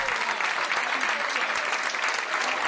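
A crowd gives a soldier's surprise family reunion a standing ovation, with dense, steady applause and no voices over it.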